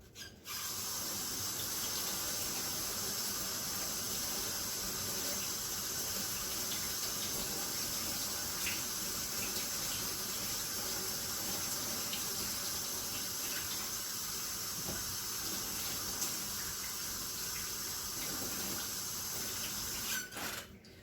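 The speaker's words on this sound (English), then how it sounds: "Let me wash this broccoli. You just need to rinse it off good." Broccoli is rinsed under a kitchen tap as water runs in a steady, continuous gush and spray for about twenty seconds, close and alone.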